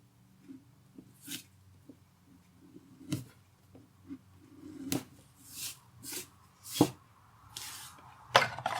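A lino cutting gouge scoops out a lino block in close, quiet strokes: soft scraping bursts and sharp clicks recur irregularly, with a low hum underneath and no talking.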